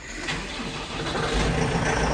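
A truck engine turns over and settles into a steady, rumbling idle, close by and fairly loud throughout.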